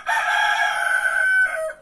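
A rooster crows once, close and loud, holding a long clear call that drops off at the end, with nothing else around it.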